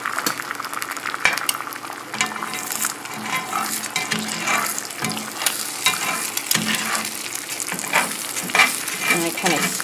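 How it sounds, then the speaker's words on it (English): Bacon fat frying in a skillet, a steady crackling sizzle that runs continuously at close range, with occasional soft stirring and utensil clicks and no talking. "So this is just the skillet that I cook the bacon in."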